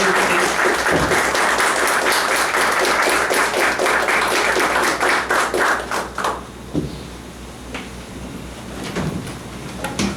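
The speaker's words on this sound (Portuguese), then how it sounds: "Uma salva de palmas para a doutora Rodrigo Marinho." A room of guests applauds at the launch of a labour law commission, clapping loud and steady for about six seconds, then fading into a few scattered claps and quiet room noise.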